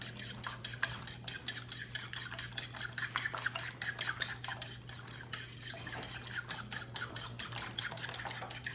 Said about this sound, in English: I'm gonna beat those eggs up